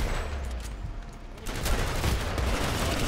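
Handgun fire in the Planetside 2 shooter game, a muffled, continuous rattle of shots buried in a dense wash of battle noise, fairly faint and without clear separate reports.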